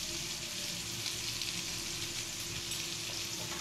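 Turmeric, red chilli and Kashmiri chilli powder fry in hot oil in a pan, a close, steady sizzle with faint stirring, no voices.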